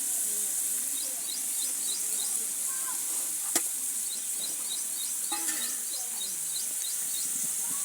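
Garlic paste being stirred into hot oil for a large batch of tomato pickle, a steady bright sizzle throughout with scraping stir sounds and a couple of sharp clinks, voices faint underneath.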